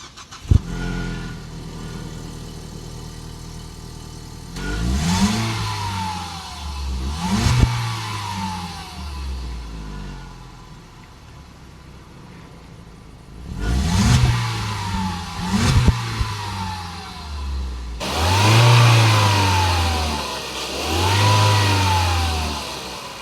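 A nearly 15-year-old high-mileage Ford Focus with a 2-liter four-cylinder engine revs up from idle in several rising and falling pulls, close and clear, with no talking.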